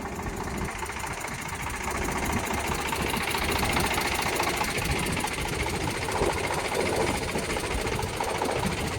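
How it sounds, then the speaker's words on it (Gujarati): A first-owner GJ16 tractor with double PTO runs with the PTO fully engaged, a loud continuous mechanical drone with rapid rattling knock, steady throughout and close up, no voices. "તમે જોઈ શકો છો પીટીઓ કમ્પ્લીટ ચાલુ છે"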